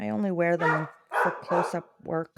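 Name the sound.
dog barking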